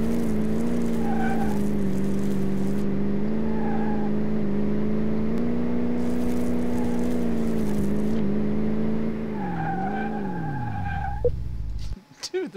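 Smith 1500 truck in Car Mechanic Simulator 2018 driving over bumps, its engine droning steadily with wavering pitch while tires skid and screech in short bursts, then the revs sag and fade out near the end.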